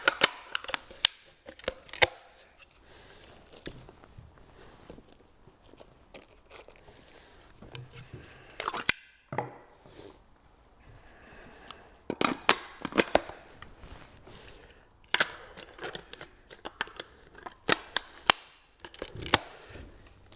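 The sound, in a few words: Browning Heritage and Miroku MK11 shotguns handled and put together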